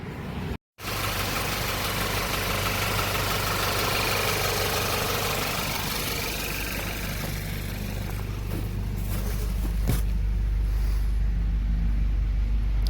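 An Audi A4 B8.5 engine idles after being started following a no-start repair: a steady, close mechanical rumble and hum that runs on without a break, with a brief dropout near the start and no voices.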